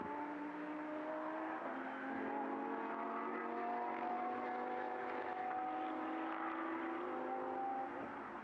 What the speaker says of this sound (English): the car we're looking at the moment is the Herrera Racing run Audi R8